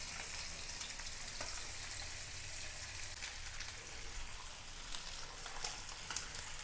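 Fish marinated in turmeric, chili powder, coconut oil and salt fries in a pan, giving a continuous close hiss and crackle with small pops, steady and unbroken throughout.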